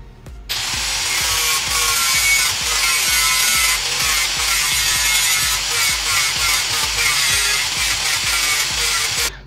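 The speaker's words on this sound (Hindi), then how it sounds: "और इसको हम शेप देंगे घिस कर।" A power grinder shapes a metal part salvaged from a sewing machine for a homemade steam engine, giving a loud, steady grinding whir that runs unbroken for several seconds with no talking.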